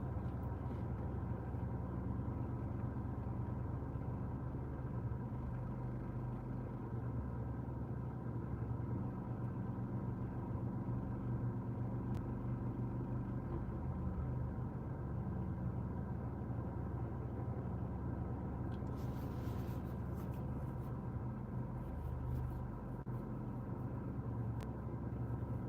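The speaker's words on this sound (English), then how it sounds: "It's the Lamborghini Mercy that we're in tonight." Steady low engine rumble inside a moving Lamborghini Murciélago at night, a constant droning hum that stays even throughout, fairly quiet with no talk.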